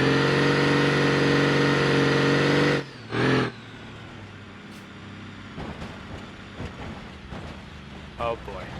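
A car with no muffler in BeamNG.drive roars with a loud, raw, steady engine drone, then cuts off abruptly and gives way to quieter scattered knocks and softer engine noise.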